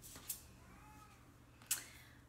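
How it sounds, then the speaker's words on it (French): A cat meows softly from a windowsill, wanting to go outside; two faint, brief calls about a second and a half apart sit over a quiet indoor hum. "mon chat est sur le bord de la fenêtre et veut sortir"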